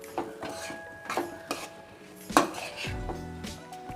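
Metal spoon scraping and clinking against a pan while bread pakoda masala is stirred over a low gas flame, with several sharp knocks and steady scraping strokes, no talking.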